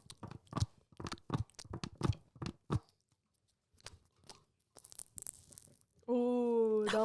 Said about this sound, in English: This is a plastic cup.